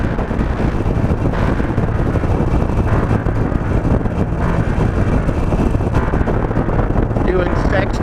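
Steady, loud wind roar buffets the microphone as a 17-year-old Harley-Davidson Nightster motorcycle rolls downhill at about 60 km/h, the engine's low rumble buried beneath the continuous gusting air.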